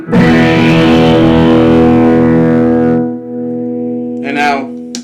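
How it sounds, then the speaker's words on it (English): Sustained distorted electric guitar chord on the neck pickup of a Glarry guitar, ringing loudly for about three seconds, then fading, followed by a brief burst of scratchy string noise near the end. "let you hear what the pickups sound like with distortion on the guitar"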